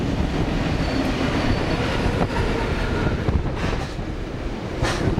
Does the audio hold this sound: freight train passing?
yes